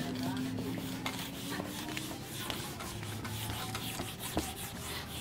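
Duster rubbing chalk writing off a classroom board, a steady soft scraping and rubbing that continues for several seconds with faint background noise.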